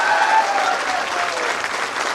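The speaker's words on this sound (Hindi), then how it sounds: "तालियां बजती रहनी चाहिए।" An audience claps steadily at a library event for Ambedkar Jayanti in Jharkhand, the applause dense, close and continuous throughout.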